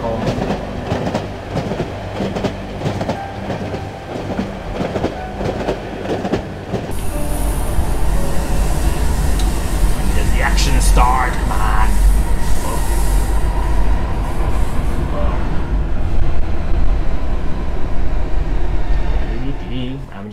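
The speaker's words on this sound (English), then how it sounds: "I'm riding the subway cart home." A subway train rumbles and clatters along in the horror video game Cry of Fear, a dense, loud rolling drone of wheels with rhythmic clicking and occasional squeals that swells louder partway through.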